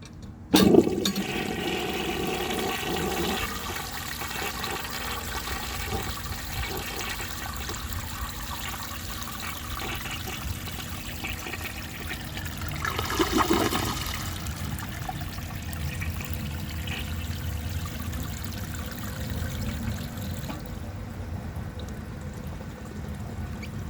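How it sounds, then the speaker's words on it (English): A 1930 Eljer Sanus toilet flushes with a sharp start, then a long, steady rush of water as the bowl siphons, a brief surge midway and the flow tapering off near the end, heard up close with no talking. "it does have a very good flush, so I think it will have a very satisfying long flush, but it will siphon"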